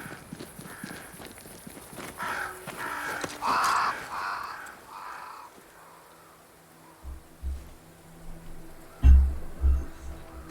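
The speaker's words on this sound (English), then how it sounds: "Crows. They flock to that great tree up there." Crows cawing around a great tree in the video game Banishers: Ghosts of New Eden, a few harsh calls near the middle over an ambient game soundscape, followed by heavy thumping sounds near the end.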